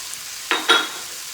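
Onion, carrots and celery land in hot bacon fat, giving two quick loud sizzling bursts over a faint background hiss.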